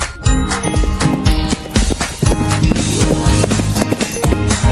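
A horse's hooves clip-clop in a quick running rhythm, loud and close, mixed with a steady bed of music throughout.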